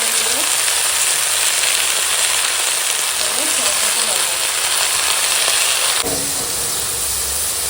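Onion and green chili frying in oil give a loud, close, continuous sizzle with occasional stirring scrapes, and the hiss drops slightly near the end.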